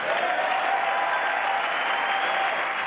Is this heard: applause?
yes